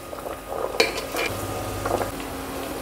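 Pieces of cauliflower and carrot drop into a pot of softened onion and are stirred, giving metal clinks and scrapes over a low, steady sizzle, with no talking.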